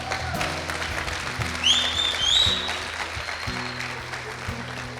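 Church congregation applauding during a sermon, a moderate wash of clapping with a low organ or keyboard chord sustained beneath and a brief high whistle-like tone near the middle.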